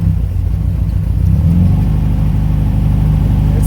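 A replica 718 RS-60 Spyder engine warms up after a cold start, running at a fast, steady idle with a close, loud, even low-pitched thrum.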